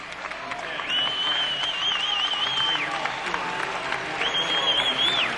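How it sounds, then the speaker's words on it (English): Crowd at a 2006 college basketball game between the Bradley Braves and Drake Bulldogs, applauding in a dense, sustained wash from a large arena audience, with a whistle-like tone sounding over it twice and faint talk mixed in. "they get a big hand from this crowd"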